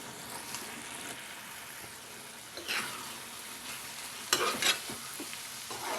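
Prawn and ridge gourd curry simmers and sizzles softly in a pan, a steady low bubbling hiss with a few louder stirring scrapes near the end.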